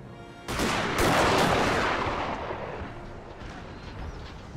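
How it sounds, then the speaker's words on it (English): Cannon artillery fires in a Napoleon Total War battle: one loud, booming burst that rolls out into a long, fading rumble, with faint distant gunfire continuing beneath. "Now the line's opening up with a burst from the cannons."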